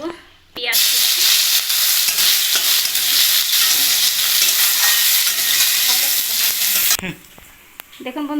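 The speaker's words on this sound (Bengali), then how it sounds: "দেখুন পেঁয়াজটা আমি এভাবে ভেজে নিয়েছি" Cumin, dried chilli, bay leaf and chopped onion fry in hot oil with a loud, steady sizzling hiss, broken by a few stirring scrapes and knocks, before the frying sound suddenly stops.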